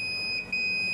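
A solar inverter's low-voltage alarm sounds a steady, piercing electronic tone that dips briefly mid-way, over a faint low hum, with no voices.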